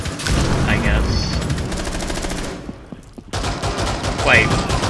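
Gunfire from the tactical shooter Rainbow Six Siege during a shotgun match, with rapid bursts of shots and echoing reports through most of the clip, a short lull, then more firing, while players talk over it.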